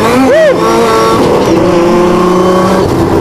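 An off-road vehicle's engine revs and pulls while driving over rough terrain among trees, its pitch sweeping up sharply at first and then holding a loud, steady drone close by.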